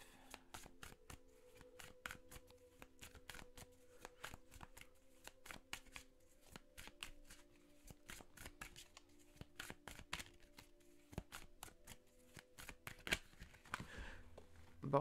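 Tarot cards shuffled by hand, a dense run of quick riffling flicks and slaps that continues steadily and close up, with a faint low hum underneath.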